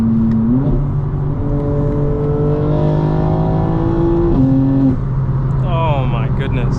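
A modified 2025 BMW M4 Competition xDrive G82 pulls hard with a loud engine drone, while a turbo whine rises steadily in pitch, drops away, then climbs again briefly near the end.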